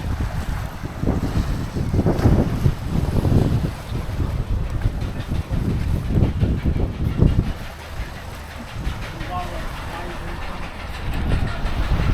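Strong gusty wind buffets the microphone beside massive gates in a sea wall on Canvey Island, a loud rumbling roar that rises and falls in waves.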